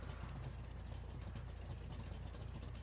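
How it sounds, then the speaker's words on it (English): The Dundreary Regina 6x6, a video game off-road vehicle, idles with a steady, low rumbling engine drone, constant and fairly faint with no other sounds. "The Dundreary Regina 6x6. God, just listen to that engine sound."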